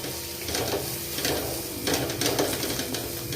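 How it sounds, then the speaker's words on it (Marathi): Spices with red chili powder and turmeric fry in a pan for a spicy cluster bean curry. A spoon stirs them in repeated scraping strokes over a constant close sizzle. "लाल मिरची हळद घालून घेऊ आणि हे जे मसाले घेतले होते हे घालायचे आहेत पूर्ण मस्त मिक्स करून घ्यायचे आहेत"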